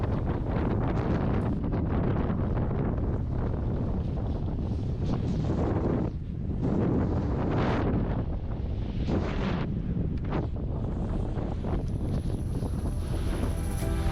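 Heavy wind buffeting the microphone on a busy ski slope at Breckenridge, a loud constant roar with gusting surges and brief dips, nothing else clearly audible.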